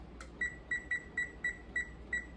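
Kitchen timer being set for fifteen minutes while cooking smothered pork chops: a string of seven short, evenly spaced electronic beeps, quiet and close, with no talking.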